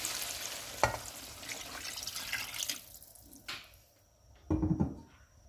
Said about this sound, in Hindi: ये मैं पानी डाल रही हूँ चावलों के हिसाब से,